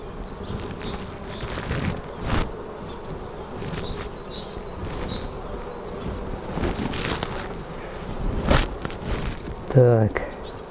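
Honey bees buzz around an open hive while the beekeeper checks frames of fresh brood, a thin, steady hum with brief passing whines of individual bees, under intermittent close talk, handling noise and light wind.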